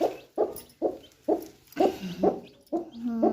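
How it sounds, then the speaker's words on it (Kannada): Crow chicks calling in quick succession, about eight short raspy cries at a steady rhythm, fairly close and alone, the last one stretched into a longer tonal note. "ಕಾಗೆ ಮರಿ ಮರಿ ಮಾಡಾಯ್ತು."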